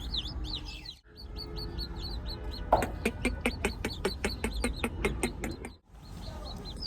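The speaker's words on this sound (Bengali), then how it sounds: "মুরগির বাচ্চার আওয়াজ শোনা যাইতেছে" Newly hatched chicken chicks cheep in rapid, high repeated peeps, close and fairly clear over a soft background hum, with a brief lull before the chirping resumes in a quick regular series.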